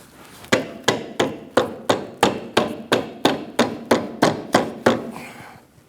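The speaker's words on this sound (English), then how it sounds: "use a mallet to tap it in" A mallet strikes a control arm bushing on a 2009-2017 Audi as it is tapped into place, giving about thirteen sharp, evenly spaced knocks in a steady rhythm, close and loud, with no talking.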